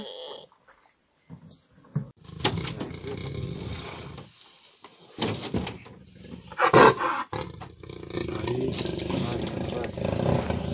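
A badly injured deer with burned legs, rescued from wildfire burns by environmental police, lets out loud, rough, distressed cries in intermittent bursts amid handling noise and faint voices.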